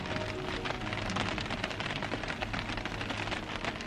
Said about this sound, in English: The sound of being in a Miata while it's raining, nothing beats it.